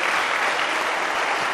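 A debate audience claps continuously in a dense, even wash of applause, loud and steady throughout with no pauses and no voices standing out.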